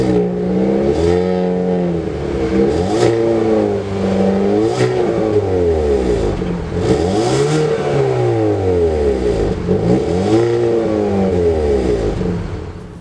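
A 2019 Hyundai Veloster N engine revs repeatedly, rising and falling in a steady series of sweeps, loud and close with a clattery exhaust edge.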